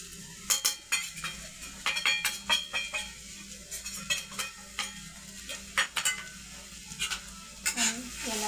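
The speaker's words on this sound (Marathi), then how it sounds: "चला, तर आता हे कारले चांगले तेलामध्ये शिजलेले आहेत." Bitter gourd cooks in oil with spices in a pan, giving a soft sizzle under frequent clinks and scrapes of a spoon stirring against the metal, with some speech-like sound between them.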